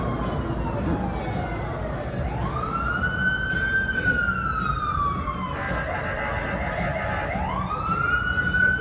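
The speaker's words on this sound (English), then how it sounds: "Ooh, looky, siren." A police car siren wails in rising and falling sweeps, loud and fairly close, over steady traffic rumble outside a restaurant.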